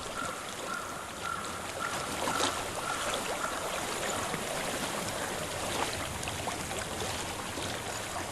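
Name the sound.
flowing water in video game Hellblade: Senua's Sacrifice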